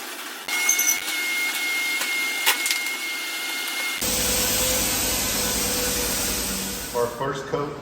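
A spray gun lays epoxy primer sealer onto a Leer truck camper shell. Quieter shop sounds give way midway to a loud, steady broadband hiss that runs on to the end.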